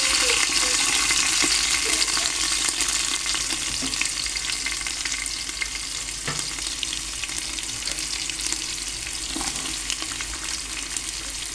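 Chopped onion frying in hot oil with curry leaves and garlic, a steady loud sizzle throughout with occasional stirring scrapes and clinks close by, no talk.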